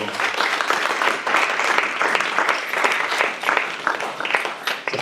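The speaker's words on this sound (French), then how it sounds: "Je vais vous demander d'applaudir Monsieur François Musy qui est avec nous." An audience at the 2017 International Film Festival gives a sound engineer a round of applause, with dense, steady clapping sustained evenly throughout and no voices over it.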